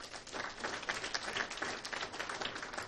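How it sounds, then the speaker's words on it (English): Audience applause at a county spelling bee, a steady wash of many hands clapping at moderate distance, fairly faint and even throughout with no voices over it. "Let's give them another big round of applause."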